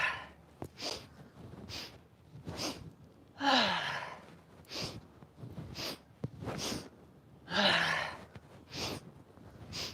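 Forceful breathing in a breath of joy yoga exercise: rhythmic sharp inhales and long gusty exhales repeat in rounds, close and loud, with a few stronger gasping breaths and a faint voice now and then.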